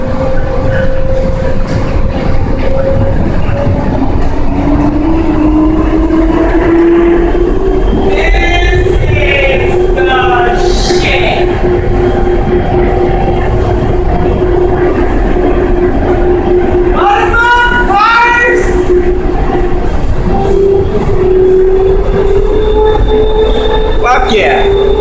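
The Phoenix Sky Train rolls along its rails with a loud steady rumble and rising, drifting wheel squeals and whines, heard from inside a car.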